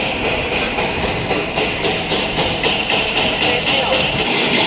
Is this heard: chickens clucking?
no